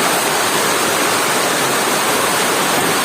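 Heavy monsoon rainwater pouring and flooding into a house kitchen, a loud continuous rushing roar of water with no letup.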